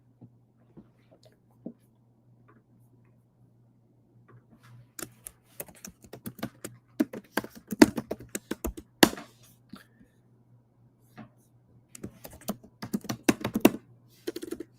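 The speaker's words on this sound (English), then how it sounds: "I'm telling you what I'm typing out." Fingers tap on a computer keyboard, first with scattered single clicks, then with quick irregular runs of typing. The sound is close but fairly soft over a steady low hum.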